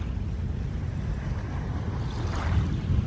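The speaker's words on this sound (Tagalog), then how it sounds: "paalon, malakas ang alon" Sea waves at Manila Bay wash in a steady, low, rushing roar with wind noise over the microphone, swelling slightly near the end; no voices are present.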